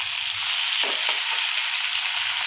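Onion, tomato and chili sautéing in a ladle of hot oil for homemade pasta give a loud, steady, close sizzle with a few soft stirring scrapes and no talking.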